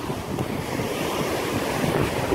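Sea surf washes onto a sandy beach in a steady, loud roar, mixed with strong wind buffeting the microphone and no voices.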